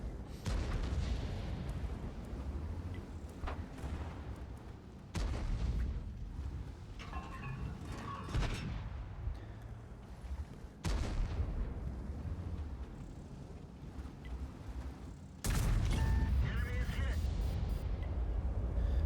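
Tank cannon shots from a Grille 15 in World of Tanks boom out in a handful of heavy blasts spaced several seconds apart, each followed by rumbling game noise and engine drone.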